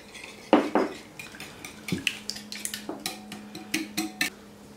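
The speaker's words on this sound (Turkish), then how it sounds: "Hepsini bir çırpalım." Eggs and spices being whisked into tarhana batter in a bowl, close quick clinking strokes of a utensil against the bowl in an uneven rhythm, no talking.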